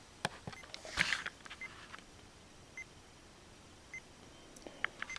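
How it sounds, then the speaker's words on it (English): A Sony D-NF611 portable CD player from 2003 gives a few short, faint electronic beeps as its buttons are pressed, spaced about a second apart and heard alone against quiet background hiss. "it makes a beep sound every time you push a button"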